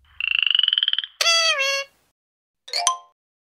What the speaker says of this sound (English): The frog.